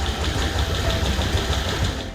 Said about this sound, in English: we make an engineering assessment of an internal combustion engine with just one cylinder